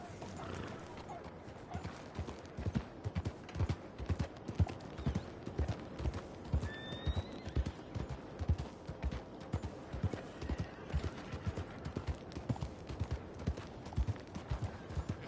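Horse hooves clip-clop in a steady walking rhythm in the video game Red Dead Redemption 2, quiet and close, with a brief whinny partway through.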